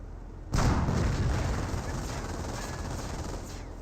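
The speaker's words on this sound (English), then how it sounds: "Enemy fire! We're taking heat!" Gunfire and artillery in the World War II strategy game Company of Heroes, a sudden loud burst of weapon fire that kicks in and then rolls on as a dense, sustained barrage.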